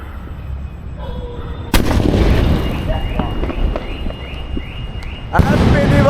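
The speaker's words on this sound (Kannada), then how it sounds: "ಎಲ್ಲರೂ ಒಂದೇ ದಿನ ಹೊಡೀರಿ ಪಟಾಕಿನ" Diwali firecrackers burst outdoors in a street, a loud sharp bang followed by crackling pops and another blast near the end, with people talking throughout.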